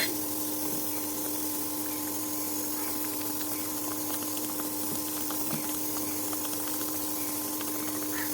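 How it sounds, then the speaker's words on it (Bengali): Sweet and sour fish curry simmers in a pan of spiced water, giving a steady, continuous bubbling and hiss with faint scattered pops, close and alone throughout. "মাছটা আমাদের এবার ফুটছে"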